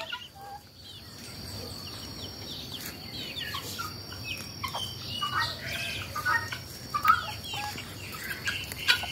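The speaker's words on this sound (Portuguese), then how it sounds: "Aqui nós temos as galinhas, raças variadas" Chickens of various breeds cluck and call outdoors on a farm among banana trees, soft scattered clucks and chirps over a constant rural background hum, with no clear speech.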